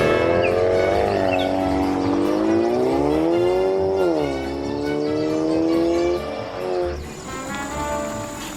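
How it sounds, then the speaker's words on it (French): A car engine in a video game revs steadily and climbs in pitch as the vehicle drives off, with a loud continuous drone that shifts gear midway and eases toward the end; no one talks over it. "notre voiture va démarrer et nous allons continuer notre chemin"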